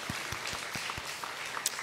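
A church congregation claps during a Sunday service, the beats loose and uneven as a short scattering of applause sounds close by, with no talking over it.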